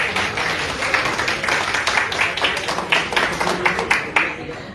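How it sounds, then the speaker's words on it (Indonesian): An audience claps at a formal ceremony in Balikpapan, East Kalimantan, with dense, steady applause from a crowd that fades slightly toward the end. "Tepuk tangan buat beliau"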